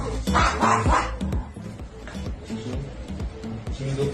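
A small dog barks and yips in quick, loud bursts at close range, the sharp cries settling into softer, intermittent yaps.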